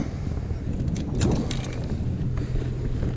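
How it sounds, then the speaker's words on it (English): Wind buffets the microphone at a lakeside fishing spot, a steady low rumbling whoosh that swells slightly in gusts and never lets up, with no other clear sounds above it. "Hopefully the wind doesn't get too much more than this"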